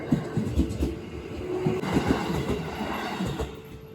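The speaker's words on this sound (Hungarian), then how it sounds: "Vonat." A train passing in Japan, near Osaka, gives a moderate rumbling clatter with irregular rhythmic knocks from the wheels. It stays at a fairly low level and is heard from a short distance.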